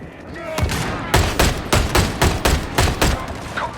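A rapid volley of gunfire in Warhammer 40k: Darktide, about eight loud, evenly spaced shots in quick succession after a brief quiet start.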